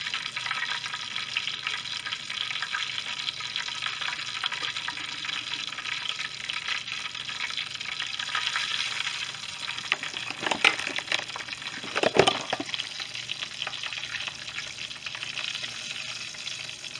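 Hot oil bubbles and sizzles in a pan while frying for enchiladas, a steady close crackle with a few louder pops toward the end.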